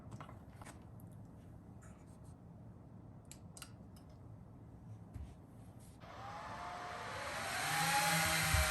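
Dell R320 rack server powering on: after a quiet stretch, loud fan whir surges in around six seconds and climbs steadily in pitch and volume, a steady broadband rush to the end.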